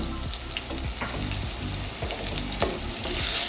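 Finely chopped onion sautés in a hot pan with urad dal, crackling and sizzling steadily up close while a spatula stirs in quick scraping strokes.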